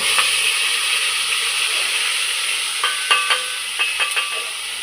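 Tomato paste tips into hot oil for a tempering, giving a steady broadband sizzle with a few sharp crackles and spatters toward the end, close and fairly loud with no talking.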